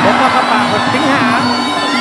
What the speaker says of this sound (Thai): ไซโยกยกนี้เสียงเชียร์ของพี่น้องชาวศรีสะเกษไม่มีแผ่วครับ